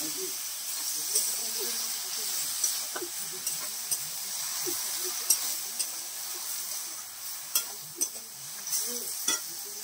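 Chopped spinach tipped into a hot wok for a Bengali spinach-and-lentil dish, giving a steady soft sizzle with scattered stirring scrapes and clicks throughout.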